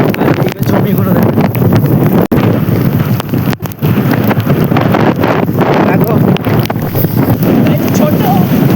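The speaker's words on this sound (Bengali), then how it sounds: "বড্ড হচ্ছে হাওয়া" Strong storm wind buffets the microphone in a village, a loud, roaring, gusting rush that never lets up, with a voice speaking underneath.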